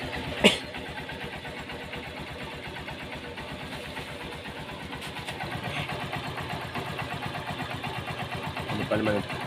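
A vehicle engine cranks over on its starter near the start, then settles into a steady, close mid-pitched idle or running rumble that continues throughout, with a few brief knocks and mechanical clatters along the way.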